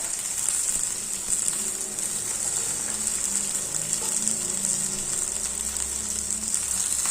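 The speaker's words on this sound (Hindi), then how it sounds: "अब इस ऑयल में डाल देंगे अपनी भिंडियों को" Sliced okra (bhindi) sizzles and fries steadily in hot oil in a pan, a dense continuous crackle with no talking throughout.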